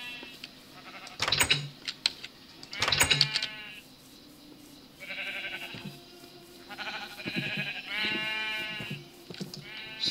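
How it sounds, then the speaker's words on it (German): Sheep in the video game Minecraft bleat in repeated short, nasal calls. The bleats come in several bursts, with sharp clicks mixed in and a voice talking in between. "Oh, da ist noch ein weißes Schaf, sehe ich gerade."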